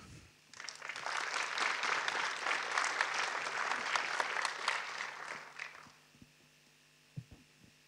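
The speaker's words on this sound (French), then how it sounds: "je voudrais qu'on applaudisse particulièrement pour remercier de cette organisation" Audience applause at a medical colloquium round table, a dense crowd clapping steadily for about five seconds over a low mains hum, then fading out to quiet room noise with a few faint knocks.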